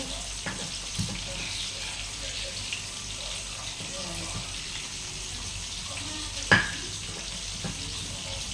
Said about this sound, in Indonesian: Ikannya setelah digoreng jangan langsung diangkat, agak sedikit minyaknya ganti dulu